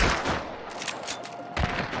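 Gunfire in the Hunt Showdown video game: a few sharp, close shots in quick succession, with another burst near the end, no talk.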